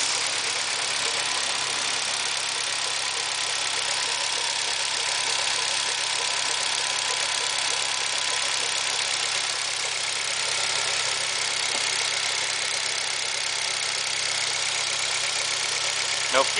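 A car engine idles steadily after a fuel feed line kit install, a constant low hum with faint knocking texture, heard alone at moderate level.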